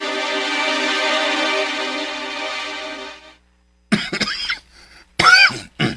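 A person coughs harshly at close range in several rough bursts with gaps between them, after a long sustained tone at the start.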